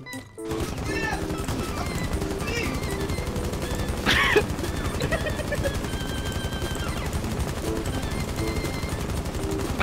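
Light machine guns firing in a first-person shooter game, a dense, continuous rattle of rapid bursts lasting throughout, with one brief louder crack midway and people talking over it.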